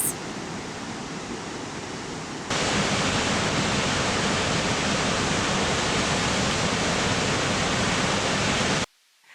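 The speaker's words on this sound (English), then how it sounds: "Our next stop was Firehole Canyon Road to see both Firehole Cascades and Firehole Falls." Firehole Cascades and Firehole Falls on the Firehole River in Yellowstone, a loud, steady broadband roar of rushing water that swells louder after a couple of seconds and continues without pause.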